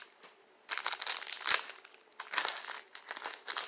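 Plastic packaging from a mail-order parcel crinkles and crumples close up in several quick bursts of rustling, with quiet pauses between them.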